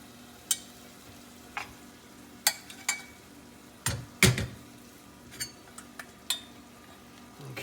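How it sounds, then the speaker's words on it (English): Sausage tipped into a pot already holding tomatoes, onions and garlic for Hoppin' John with black-eyed peas, giving a few scattered clunks and scraping knocks against the pot, one heavier thud mid-way, in a quiet kitchen. "We're now going to come back and dump in the sausage that we drained out."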